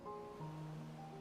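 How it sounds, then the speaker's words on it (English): Ocean waves in Final Fantasy XIV Endwalker wash softly and steadily in a faint, brief ambience, with a sustained musical tone layered over the surf. "It's like the sounds of the ocean."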